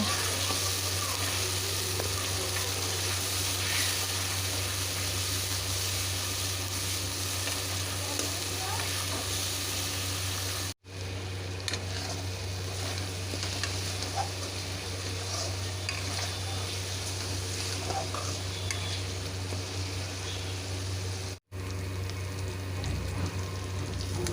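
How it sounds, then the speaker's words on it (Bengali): Onion, garlic, ginger and tomato paste fry in oil in a pan for a fish curry, giving a steady, close sizzle with occasional stirring scrapes that continues without pause apart from two brief cuts. "তার মধ্যে দিয়ে দিলাম পেঁয়াজ, রসুন, আদা, টমেটো বাটার পেস্টটা। এবার এটা ভালো করে কষিয়ে নেব।"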